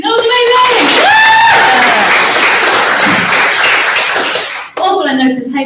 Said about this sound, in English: No, another round of applause for Lucy.